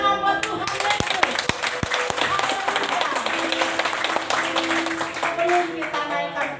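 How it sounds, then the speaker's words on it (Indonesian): A church congregation clapping their hands in praise during a worship service, brisk rhythmic claps from many people mixed with a few sharper nearby hand strikes, steady and fairly loud throughout. "beri tepuk tangan buat Tuhan Yesus."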